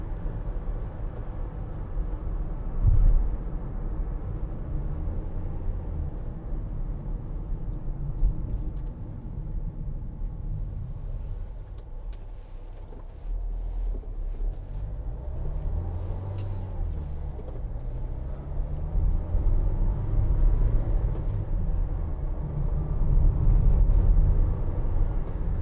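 A 2016 Vauxhall Vivaro 1.6 CDTi BiTurbo van drives on a road test, its diesel engine and road noise forming a steady low rumble from inside the cabin, swelling and easing with speed changes.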